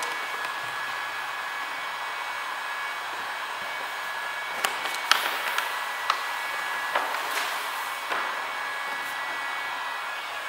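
Heat gun blowing hot air onto 3M vinyl wrap on a car side mirror, a steady close hiss with scattered light taps and crackles partway through.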